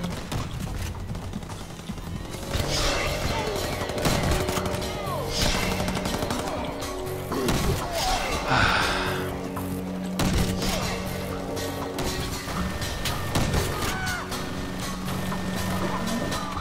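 Chain gun firing in R.I.P.D. during co-op play, dense rattling bursts of automatic fire mixed with other battle noise, continuous and loud throughout, with voices talking over it at times.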